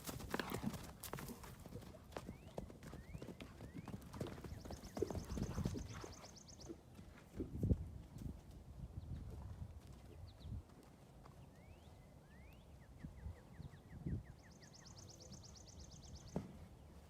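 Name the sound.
horses playing together, hooves clip-clopping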